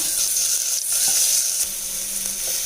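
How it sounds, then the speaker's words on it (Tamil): Continuous bright sizzling of onion and tomato sautéing in a hot pan, steady and close, with faint stirring scrapes. "இப்போ இது நல்லா வதங்கட்டும்"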